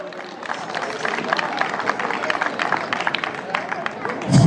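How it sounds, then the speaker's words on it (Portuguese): Crowd clapping for people named at a ceremony marking the end of the marchas in Loriga, a patchy round of applause mixed with murmuring voices and shouts, ending in a louder bump. "Um aplauso também, bem-vindo."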